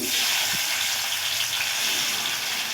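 Dry chilli, black cumin and chopped tomato sizzle in hot oil in a pan, giving a dense, steady frying hiss with one brief knock early on.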